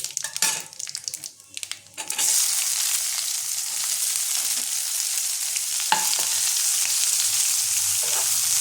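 Chopped onions hit hot oil already seasoned with bay leaf and cumin, erupting into a loud, steady sizzle after a few clattering stirs, the frying hiss continuing close and unbroken with an occasional scrape of the spoon.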